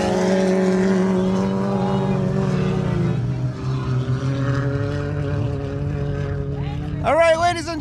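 Boats racing close together at the Kahnawake Marina Super Series, heat 1, as they exit turn 4 on a slick track, with a steady layered engine drone and a commentator talking over it throughout; a sharper, rising engine whine joins near the end.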